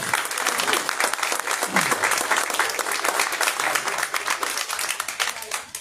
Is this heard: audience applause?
yes